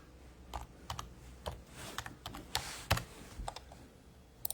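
A computer keyboard clatters with quick, close keystrokes as someone types a short search entry, uneven taps spread across a few seconds with no speech.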